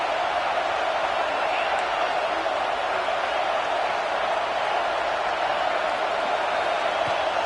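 Steady stadium crowd roar from a college football video game against Clemson, a dense continuous wash of cheering with no breaks, loud and unbroken throughout.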